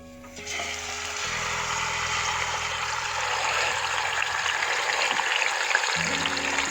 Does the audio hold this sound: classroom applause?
no